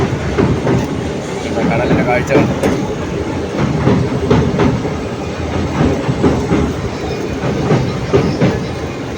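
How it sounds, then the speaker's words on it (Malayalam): A train rolls over the Pamban railway bridge above the sea, its steady clickety-clack and wheel rumble loud and close throughout while someone talks over it. "അതിനെ ക്രോസ് ചെയ്ത് നമ്മൾ റെയിൽവേ ലൈനിലൂടെ അകത്തേക്ക് പോവുകയാണ്"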